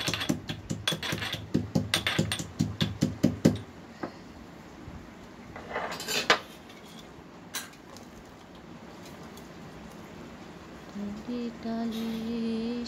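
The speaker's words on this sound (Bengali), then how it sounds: "একটু হামাল দিস্তাতে কুটে নিলাম জাস্ট হালকা" Cashews lightly crushed in a mortar and pestle: a quick run of sharp, rhythmic pounding taps for a few seconds, then a few scattered knocks and quiet background.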